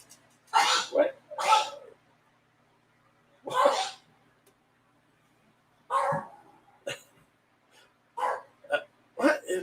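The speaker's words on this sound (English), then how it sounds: "What is my dog going on about?" A dog barks in a handful of sharp, loud bursts, a pair close together, then a lone one, then a quicker cluster, with quiet gaps between them.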